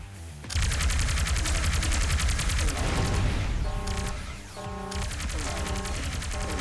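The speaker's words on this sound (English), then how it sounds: "Hopefully I can shoot a little longer." Continuous rapid automatic gunfire from the video game Rogue Robots rattles loudly and steadily, a dense rhythmic stream of shots with a brief dip midway before resuming.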